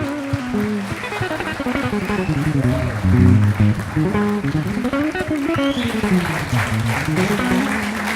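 An audience applauds after a performance, a dense, steady crackle of clapping filling the room, with voices and a faint tonal hum running underneath throughout.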